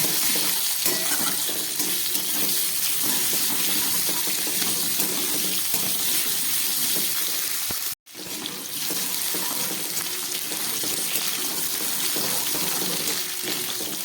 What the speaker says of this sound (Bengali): আলু আর লঙ্কাটা খুব ভালো করে ভেজে নিলাম।